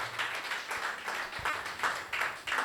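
A church congregation claps in praise of Jesus during a sermon, a faint, rhythmic run of hand claps in a steady even beat, quiet and distant with no voices over it.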